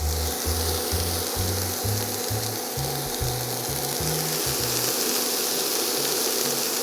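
Vegetables for pumpkin cream soup stew in a frying pan, giving a steady close sizzle and hiss. Low tonal music plays underneath for the first few seconds, then stops.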